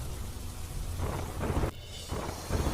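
Heavy monsoon downpour hisses steadily across rural roads with running water, broken by deep rumbles of thunder that rise and fall in several surges.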